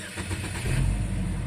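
A car engine cranks and catches, then settles into a rough, uneven running note with a suspected low-compression misfire, loud and close, with no talk over it.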